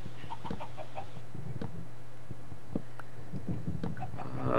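Chickens clucking in the video game Minecraft, a scattering of short, soft clucks and thumps spread irregularly over a steady low background hum, close but not loud.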